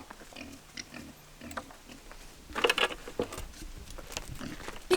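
Pigs on an Australian homestead grunt and oink at feeding time, kept in a rental paddock behind electric fencing. Soft, close grunts come in short clusters, with scuffling and pattering around them and a brief louder burst in the middle.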